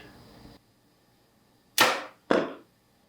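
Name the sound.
arrow shot popping a red balloon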